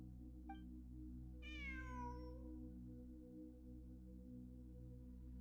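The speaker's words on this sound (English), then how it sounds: "It really is a cat" A cat gives a brief chirp and then one long, drawn-out meow over a steady low hum, clear and close in a quiet setting.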